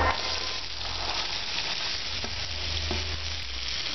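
Chopped vegetables and red chili powder frying in a pan for leftover rice pulav, a dense, continuous sizzle with occasional stirring scrapes, close and fairly loud.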